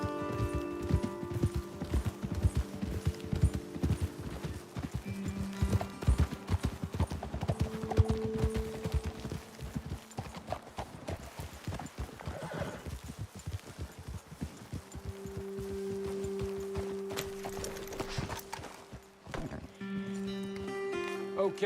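Horses' hooves clip-clop steadily in a video game as riders climb toward a hilltop vantage point, a continuous rhythmic patter under game music and occasional voices.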